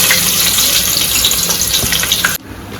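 Finely chopped onion fries loudly in a hot pan for a biryani, a dense, steady sizzle with faint crackles that cuts off abruptly near the end, leaving a quieter hiss.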